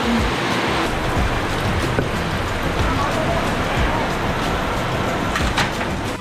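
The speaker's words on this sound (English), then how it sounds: "it's raining so much" Heavy rain in the Philippines pours steadily onto potted basil plants in an urban garden, a dense, continuous hiss close by.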